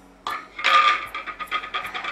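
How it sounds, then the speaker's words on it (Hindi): Small pieces of pasta sauce ingredients dropping and clinking into a blender jar, a few distinct knocks followed by quicker light rattles, up close. "अब इसको मैं मिक्सी के जार में डाल देती हूँ"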